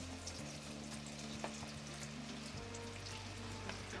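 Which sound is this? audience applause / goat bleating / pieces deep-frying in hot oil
pieces deep-frying in hot oil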